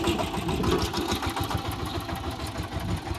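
A mini tractor engine runs close by with a steady, throbbing idle that holds evenly throughout, with no talking over it.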